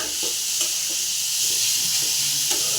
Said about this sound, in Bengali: গাজরগুলো একটু ভালো করে ভাজবো, যাতে রঙটা ডিপ কালার না হয়